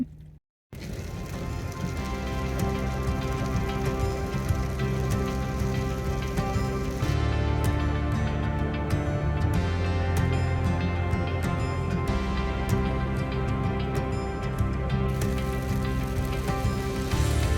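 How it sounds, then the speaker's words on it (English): Steady rain and hail patter on a surface nearby, a dense continuous hiss that keeps going without a break. "You can probably hear it raining and hailing outside."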